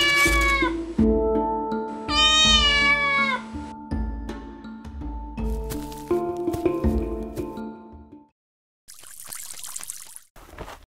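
A cartoon cat meows several times in drawn-out, high, wavering calls, loud and close, followed by a brief silence and then a soft hissing splash.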